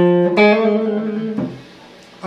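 A few sustained blues guitar notes ring out one after another in a turnaround lick, with a short slide into the last phrase, played alone without talk.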